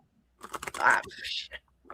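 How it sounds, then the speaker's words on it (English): A tarot prediction deck being shuffled close to the microphone, a quick run of riffling card clatter lasting under two seconds. "I'm sorry if my shuffling is loud."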